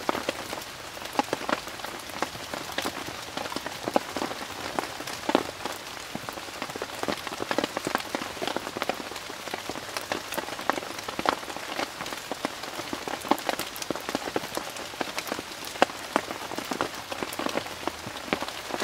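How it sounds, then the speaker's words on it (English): Steady rain patters and drips on a surface, with dense crackling droplets throughout and no voices. "Still raining."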